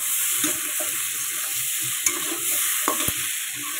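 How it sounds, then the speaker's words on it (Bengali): Vegetables fry in oil in a kadai, a steady close sizzle with a spatula stirring and scraping through it, giving a few sharp knocks against the pan toward the end. "আমার কড়াইতে যা তেল ছিল সেই তেলটা দিয়ে আমি সবজিটা পুরো ভেজে নিলাম খুব সুন্দরভাবে।"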